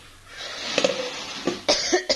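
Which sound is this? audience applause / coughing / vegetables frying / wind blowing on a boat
coughing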